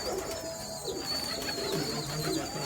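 Pet pigeons kept by a breeder coo softly in a loft, low repeated murmurs over a thin steady background whine.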